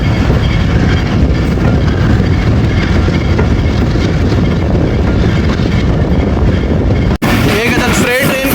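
Tezgam passenger train running at speed after the driver notches up, heard from on board as a loud, steady rumble with wheel clatter and wind roar, ending with a sudden change in tone.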